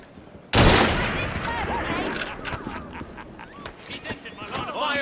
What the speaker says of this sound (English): Let's have a salvo!